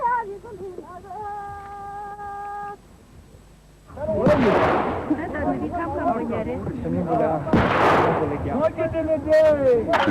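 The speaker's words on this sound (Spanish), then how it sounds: "Los disparos de fusilería forman parte de la ceremonia nupcial entre los tibetanos de Guoluo" Rifle gunfire rings out at a Tibetan wedding ceremony in Guoluo, two sharp loud cracks echoing over a noisy crowd, after a short sustained musical tone at the start.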